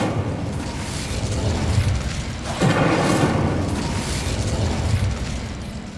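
Incendio fire spell cast in Hogwarts Legacy, a loud roaring burst of flame that swells sharply midway and then keeps rumbling and crackling to the end.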